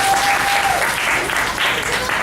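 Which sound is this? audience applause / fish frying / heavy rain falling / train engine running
audience applause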